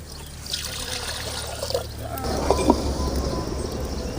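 A tumbler of water is poured into a pan on the stove while making fenugreek milk sweet, giving a short splashing trickle partway through over faint background hum.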